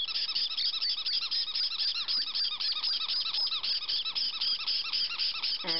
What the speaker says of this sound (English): he's quite a little squeaker. Sounds just like a dog squeak toy, doesn't it?